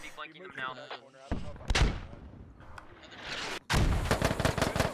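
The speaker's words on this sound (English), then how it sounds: "Big Rago taking shots at Hero." Gunfire in a military video game, with loud broadband bursts of shots and booms, one heavy volley near the middle and dense sustained firing toward the end, over some background voices.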